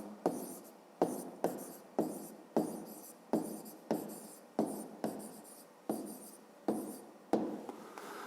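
Pen or pencil writing by hand on paper while working a fifth-grade math exercise, with about a dozen short repeated scratching strokes in a steady rhythm, each starting sharply and then trailing off, close and clear with no talk.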